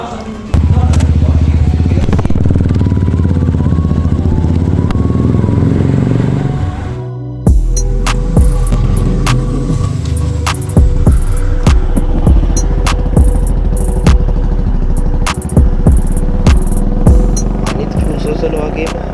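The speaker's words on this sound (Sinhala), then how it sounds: "මේ රයිඩ් එකක් කරලා බලමු." A Royal Enfield Classic 350 motorcycle engine drones loud and close while riding, with a brief drop around the middle, then rumbling on with clattering bumps and a steady low thrum.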